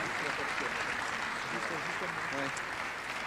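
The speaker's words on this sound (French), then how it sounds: "On les applaudit très fort" Steady applause from an audience at a sports awards ceremony rolls on throughout, with faint voices mixed beneath the clapping.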